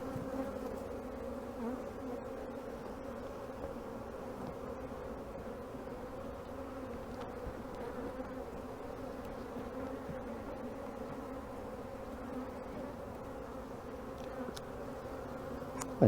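Honey bees and large drones hum in a queenless backyard hive, a dense, continuous buzzing drone held close and steady with no voices.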